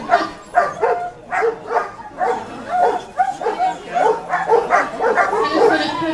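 Dogs at a training exercise on grass, barking repeatedly in an irregular series of close, loud barks and yips with some whimpering, spread evenly across the whole clip.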